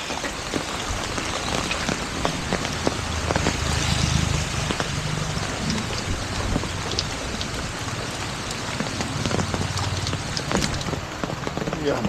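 Steady rain pours down throughout at night, a dense even hiss with scattered drops spattering on nearby surfaces and a low rumble underneath, no talking.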